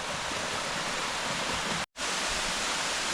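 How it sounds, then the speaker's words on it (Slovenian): Waterfall on the Tolminka river in the Posočje region: a dense, steady roar of falling water fills the whole clip at close range, broken only by a brief silent cut partway through. "No, zdaj smo pa še pri zadnjem slapu"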